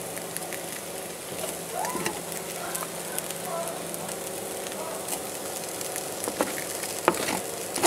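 Potatoes frying in a pan, some turning tender and brown, give a steady close sizzle with faint crackle that runs through the whole stretch, without speech over it.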